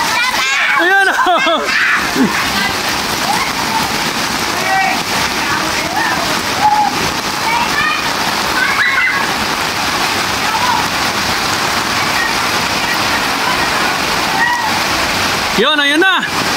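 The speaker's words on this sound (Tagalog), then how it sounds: "Nasaksihan nyo na ang baha, ang kaganapan dito sa Santa Misa, Manila." Heavy rain pours and floodwater rushes during a typhoon in a Manila street, a dense constant roar of water close by, with a voice talking over it.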